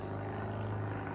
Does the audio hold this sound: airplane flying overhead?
yes